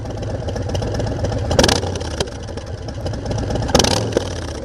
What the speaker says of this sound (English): let me give you a sound of the exhaust